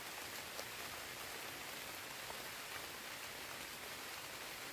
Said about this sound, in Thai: ฝนตกท่านผู้ชม